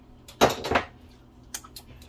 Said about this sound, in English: So I'm going to switch these bowls out.